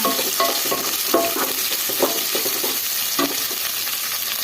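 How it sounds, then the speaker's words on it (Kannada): Sliced onions frying for sambar, a close, continuous sizzle with a spatula stirring and scraping against the pan in an irregular rhythm. "ಈ ಥರ ಸ್ಲೇಸ್ ಆಗಿ ನಾವು ಈರುಳ್ಳಿನ ಕಟ್ ಮಾಡ್ಕೊಳ್ಬೇಕು ಚೆನ್ನಾಗಿ ಫ್ರೈ ಮಾಡ್ಕೊಳ್ಳೋಣ"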